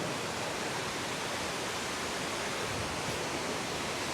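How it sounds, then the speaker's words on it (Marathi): Ghavarkarni waterfall pours in a steady, dense rush of broadband water noise, loud and continuous throughout with no voices. "हे पहा हे आपलं घावरकर्णी वॉटरफॉल"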